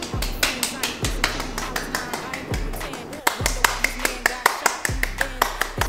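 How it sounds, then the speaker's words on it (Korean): Classmates welcoming a new student to their classroom clap in a brisk, even rhythm that runs the whole time. Close voices talk over the claps. "잘 적응하라고 우리 모두 박수."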